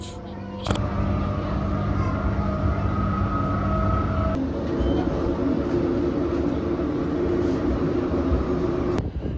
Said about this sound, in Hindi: ये है यहाँ की ट्रेन, और सरप्राइजिंग बात ये है कि यहाँ पे अभी भी टिकट चेकर्स घूमते हैं